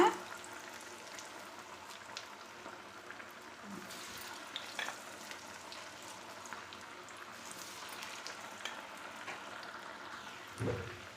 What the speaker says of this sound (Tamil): எண்ணெய் நல்லா சூடாகிடுதுக்கு அப்புறம் மேலே தெரிக்காமல் பத்திரமா பார்த்து போடுங்க